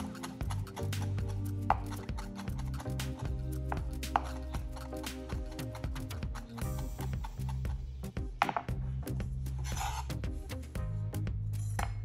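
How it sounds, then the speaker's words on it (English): Steady knife chopping of ingredients for burrito bowl rice on a cutting board, repeated taps in an irregular rhythm, close and fairly quiet, with faint clinks now and then. "I'm chopping up a lot of ingredients for my rice."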